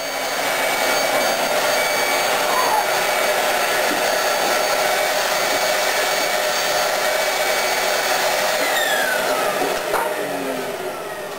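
A power sander roughs up a cured epoxy coating ahead of primer, holding a steady, loud, continuous whine for the whole stretch with no breaks and no voices.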